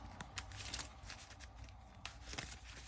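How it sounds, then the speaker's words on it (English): Quick papery riffles and soft flutters of a Marvel Champions card deck being shuffled at close range, in several brief bursts over a low background hum. "We shuffled our deck."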